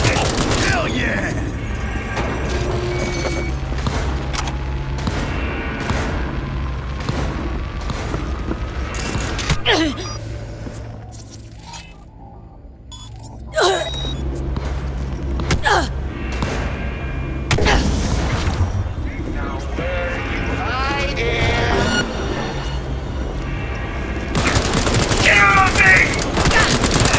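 Gunfire in the video game Cyberpunk 2077, rapid bursts of automatic fire and booming shots that come in waves with short lulls between them, loud and close, with mechanical clanks and shouted voices over the action.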